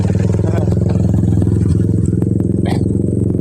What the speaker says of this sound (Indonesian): Ini motor kecil seperti ini masih bisa teman-teman.